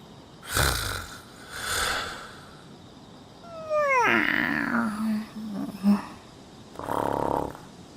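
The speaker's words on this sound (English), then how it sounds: "I fell asleep to the sound of everyone's peaceful breathing." Sleeping characters in the Persona 5 Strikers video game breathe and snore softly in slow, recurring waves, with a brief chiming game effect rising in the middle.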